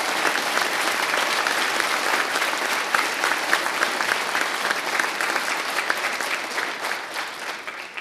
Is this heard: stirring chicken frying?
no